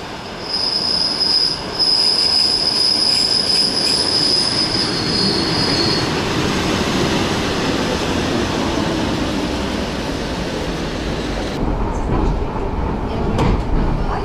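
A suburban electric train near St Petersburg rolls past loudly with squealing wheels and high metallic screeches, the rumble steady and close, shifting near the end.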